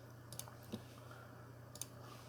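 Faint computer mouse clicks, a few quiet isolated taps spread over a low steady hum, with no talking.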